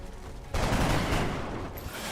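Turret firing in a video game, a dense sustained burst of rapid gunfire starting abruptly and filling the short stretch, loud and close, with no talking.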